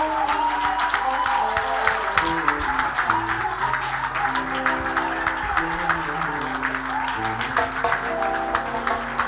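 A church congregation at a Thursday worship service applauds and cheers together, steady dense clapping with crowd voices and musical tones filling the room throughout.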